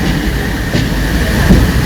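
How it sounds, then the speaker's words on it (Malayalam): A train runs toward Kozhikode station in Kerala, giving a loud, continuous rumbling roar with steady wheel clatter from inside or close by, and no talking. "നമ്മുടെ ട്രെയിൻ കോഴിക്കോട് എത്താറായി"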